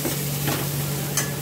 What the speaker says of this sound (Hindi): आम डाल देंगे, पांच मिनट इसको अच्छी तरह से ऐसे भून लेंगे